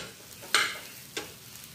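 Leftover puran warming in ghee on a tawa, a steady soft sizzle with two brief stirring scrapes, the first louder than the second, close by and with no voices.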